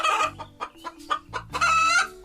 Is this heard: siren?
no